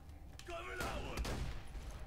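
Grenades going off in the Borderlands 2 video game, a burst of rapid, muffled blasts in quick succession over the game's background noise, with quiet talk underneath.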